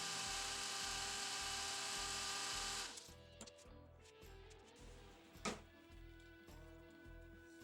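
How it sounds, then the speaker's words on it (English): A small drill boring a hole for a 3/32 rod in a forged mosaic damascus knife, a close, even high-pitched whir with rapid pulsing, ending partway as quieter scraping follows. "Just drilling a hole for a 3/32 rod so I can tighten the pommel nut."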